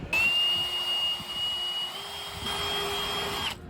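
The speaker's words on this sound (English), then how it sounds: "We're now just going to be drilling through aluminum" A power drill whines steadily as it bores overhead through aluminum on a restroom trailer door, one continuous high-pitched run with a slight change in pitch midway.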